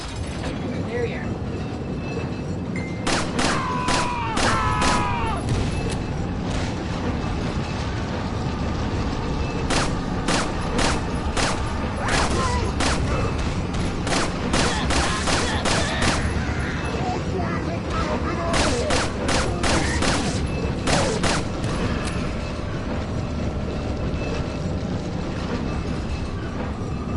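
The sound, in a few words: gunfire in the video game Resident Evil 4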